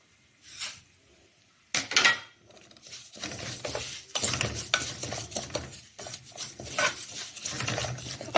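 Spices toasting in a dry pan while a spoon stirs and scrapes them around, making a gritty, rustling rasp with metallic clinks. It starts with a few brief strokes and then becomes steady, close-up stirring, with no talking.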